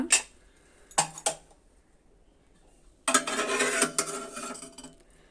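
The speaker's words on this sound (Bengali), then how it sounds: "প্রেশার কুকারের ঢাকনাটা খুলে দেখে নিব ডালটা সিদ্ধ হয়েছে কি না" A metal pressure cooker lid holding cooked dal is handled and opened: a few sharp metallic clinks and clanks come first, then after a pause a longer rattling, scraping clatter close by, with no voices.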